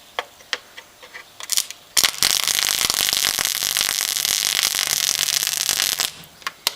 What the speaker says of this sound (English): this transformer's got some good welding potential, alright. It's melting this plate no worries